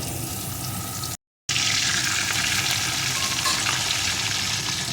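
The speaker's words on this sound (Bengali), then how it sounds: "এখন এই তেলের ভিতরে বেগুনের টুকরোগুলো দিয়ে একটু ভেজে নেব" Eggplant pieces sizzle loudly in hot oil after hilsa fish has been fried, a steady close frying hiss broken by a brief silent gap.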